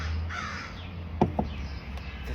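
A crow caws outdoors near a tree, a drawn-out hoarse call followed by fainter calls over steady background hiss, at moderate distance and with no talking.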